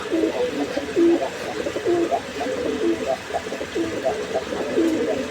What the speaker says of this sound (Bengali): এখানে একটা ধামাসিন কবুতর সিঙ্গেল একটা ধামাসিন